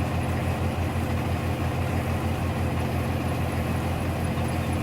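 A heavy tractor engine idles steadily and continuously in Farming Simulator 22, a dense low rumble with no changes in pace.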